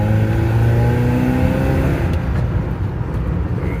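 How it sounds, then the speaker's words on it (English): Gasoline vehicle with a five-speed gearbox accelerating hard on a fruit farm, a loud close engine climbing in pitch and then easing off into rough rumble. "I've got this gas vehicle here, and man, it's pretty strong"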